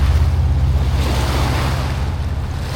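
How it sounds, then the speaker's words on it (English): Waves wash steadily against rocks on the Swan River shore in Perth, a loud continuous surf roar with heavy low rumble and wind noise on the microphone. "it's literally like right there as the waves are kind of hitting it"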